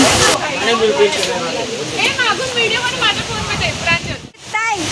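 A waterfall's steady broadband rush roars throughout, loud and continuous, while friends chatter over it.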